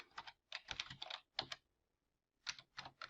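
A password typed on a computer keyboard during a Linux login: quiet, quick clusters of key clicks in short bursts separated by a pause, close and alone without speech.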